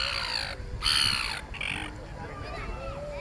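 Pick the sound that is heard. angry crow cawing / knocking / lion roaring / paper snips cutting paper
angry crow cawing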